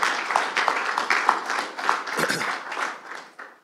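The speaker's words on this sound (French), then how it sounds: "Je pense qu'on peut les applaudir." A small audience at a talk applauds with scattered, uneven clapping that fades out toward the end.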